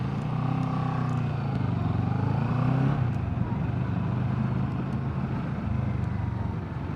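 A Moto Morini Seiemmezzo or CFMoto CL-X Adventure motorcycle engine drones steadily while riding, a continuous low rumble with shifting pitch and wind noise, loud and close throughout.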